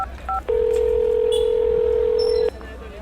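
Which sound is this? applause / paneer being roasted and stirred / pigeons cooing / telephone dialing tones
telephone dialing tones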